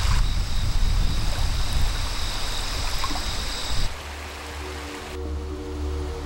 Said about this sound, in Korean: 토평천 상류까지 흘러온 강물이 마침내 우포늪을 채우기 시작한 것이다.